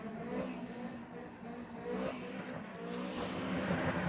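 A Nissan S15 with an SR20 engine revs in the burnout box at a drag strip at night, a sustained rising and falling engine roar with tire noise, heard from some distance and fairly even in loudness.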